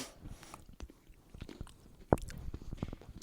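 A crunchy day-old cookie is chewed close up, with soft, irregular crunches and one sharp, louder bite partway through, and no talking.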